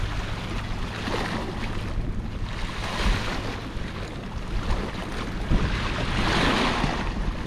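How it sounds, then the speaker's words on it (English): Sea water laps and washes against a sea defence, a steady surging slosh with swelling waves, heavy wind buffeting the microphone throughout, no voices. "so you can hear the water lapping on the sea defence"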